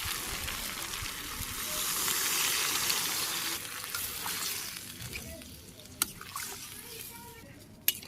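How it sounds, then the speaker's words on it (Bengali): Water poured into a pan of long-fried spiced meat curry brings a loud hissing sizzle that swells and then slowly fades, with a couple of sharp clinks near the end. "মাংসটা আমি অনেক সময় ধরে কষে নিছি, কষানো হয়ে গেছে, এখন আমি জল দিয়ে দিই।"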